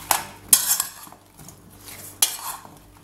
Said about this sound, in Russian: Хорошо перемешиваем, чтобы кабачки наши пропитались и пустили сок.